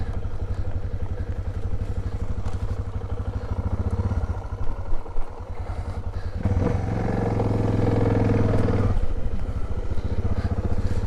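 A motorcycle engine thrums loudly and continuously at close range on an off-road track in the Australian outback, with a rattling patch midway and the revs rising briefly toward the end.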